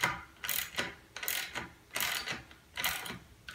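A 17 mm socket wrench tightens a nylock nut onto a 12 mm trailer through-axle, its ratchet clicking in four or five regular bursts, close and fairly quiet.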